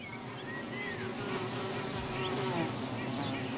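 A swarm of bees in Assam buzzes close by in a steady dense drone, with individual insects whining past in rising and falling tones.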